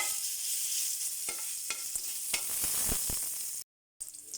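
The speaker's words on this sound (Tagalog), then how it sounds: "Magigisa na po tayo. Bawang." Garlic sautés in a pan with a steady, close sizzle and a few light stirring scrapes, cutting out briefly near the end.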